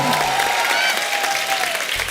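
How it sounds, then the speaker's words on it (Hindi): Studio audience of a comedy show applauding loudly and steadily as guests take the stage, a dense continuous clatter of clapping throughout. "एक बार जोरदार तालियां अनुपम जी के लिए और ईशा के लिए।"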